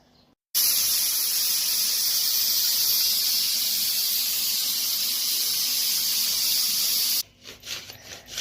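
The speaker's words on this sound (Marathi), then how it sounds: "ह्याला कमीत कमी 3 शिट्ट्या द्यायच्या." Steam hisses loudly and steadily from a pressure cooker on a gas stove, a continuous rushing vent that runs for several seconds and then cuts off abruptly.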